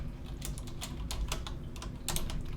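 Rapid bursts of keystrokes on a computer keyboard, uneven in rhythm with short pauses between clusters, close and fairly quiet, with no talking.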